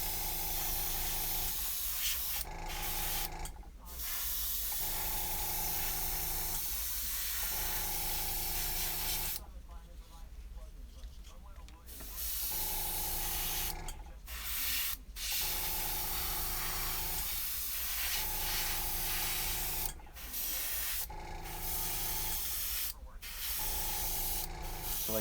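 An airbrush sprays paint onto a wooden eagle walking staff, a steady close hiss broken by short pauses, with someone talking quietly at times beneath it.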